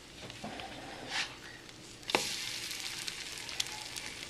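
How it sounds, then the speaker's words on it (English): French toast slices sizzle steadily in a hot pan, a close, continuous frying hiss with a brief scrape of a pancake turner and a louder burst of sizzling as a piece is flipped. "each one of you should be coating, frying, and flipping each one of your own piece of French toast"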